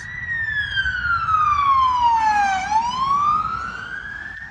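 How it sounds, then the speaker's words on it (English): A police car siren wails, its pitch sliding down then rising again as the car passes close by on a rural road, loud over road rumble. "Why he's got his siren blasting on a rural road is beyond me."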